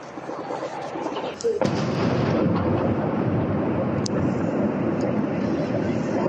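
Deep explosion at a gunpowder plant hit by drones, heard from a distance as a sudden low boom that swells into a sustained rumbling roar with wind buffeting the microphone.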